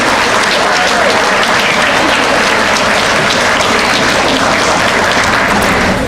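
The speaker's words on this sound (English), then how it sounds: "please stand and give the alumni a round of applause" A loud, dense round of applause for alumni at a college luncheon, filling the room evenly and without a break from start to finish.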